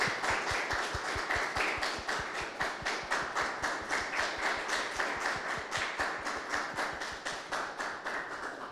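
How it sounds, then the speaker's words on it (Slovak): Audience at a closing workshop for an Erasmus+ safety training project clapping in a fast, even rhythm, the claps loud and close, continuing steadily with no talk. "poprosím jeden veľký potlesk aj pre nich"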